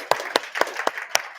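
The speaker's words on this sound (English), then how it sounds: "May we give her a round of applause, please." Sparse clapping at an awards ceremony, a handful of separate claps in quick, uneven succession, fairly close and brief.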